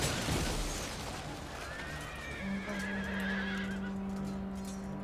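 Cavalry horses charging in a Total War battle, with whinnies and neighs rising over a dense rumble of hoofbeats and battle noise, heard steady and fairly close throughout.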